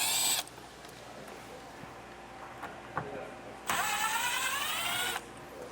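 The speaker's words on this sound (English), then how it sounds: "we're going to need a T15 Torx bit to remove" Power driver with a T15 Torx bit backing out bumper cover screws on a 2024 GMC Acadia during a trailer hitch install, with two loud whirring bursts, a short one at the start and a longer one later, separated by quieter shop sounds.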